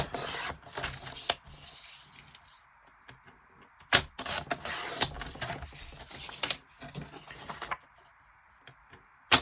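A paper trimmer slices sheets for a junk journal project, giving several sharp swishing cuts and rubbing scrapes close by, separated by quiet pauses, with no talk.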